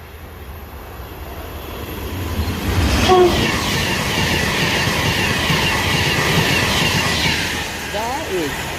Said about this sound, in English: And now coming through is Pendolino.